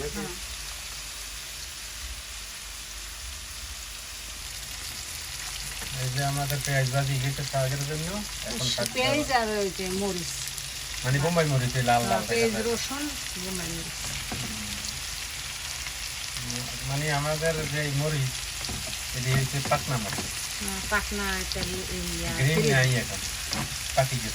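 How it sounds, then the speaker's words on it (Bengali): Radish and prawns sizzle steadily in a frying pan while being stirred, a constant close crackle with scraping, and a voice talks over it for much of the time. "একটু ভাজা ভাজা হোক"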